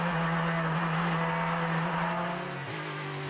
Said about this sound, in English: the Pfaff Porsche goes flying by as Antonio Garcia exits the pit lane